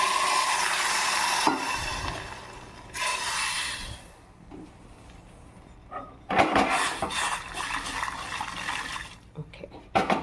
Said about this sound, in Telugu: చుక్క వాటర్ వేసుకుందామండి.